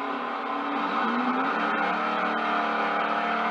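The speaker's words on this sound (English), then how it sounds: "He has no problem burning rubber, does he?" A 1957 Chevy drag car with a 454 tunnel ram engine burns rubber, its loud, sustained engine roar rising in pitch with a hint of tire squeal, close and continuous with no talk.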